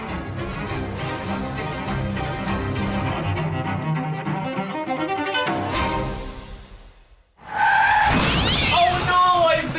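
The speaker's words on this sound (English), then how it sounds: "Oh no, I've been in a car accident!" A car skidding in a crash: a dense, loud run of sound cuts to near silence, then a sharp burst of screeching tire noise hits hard and holds loud to the end, with voices talking.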